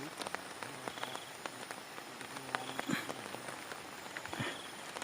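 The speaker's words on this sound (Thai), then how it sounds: "ฝนตกแล้วครับ" Steady rain pattering at night during a reservoir outing, a soft, even hiss of drops with occasional sharper taps, heard on its own without voices.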